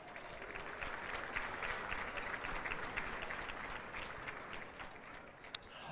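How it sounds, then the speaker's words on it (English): Sustained audience applause at a Hawaiian music awards pre-show, a dense steady wash of many hands clapping continuously, fairly even in loudness throughout with no voices over it. "One more time, big round of applause for all of that."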